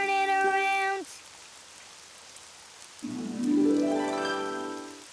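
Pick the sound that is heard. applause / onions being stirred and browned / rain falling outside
rain falling outside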